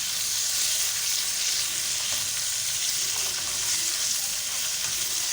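Spices and green cardamom pods sizzle steadily in hot oil in a pan, a dense, continuous frying hiss with faint stirring scrapes and no talk.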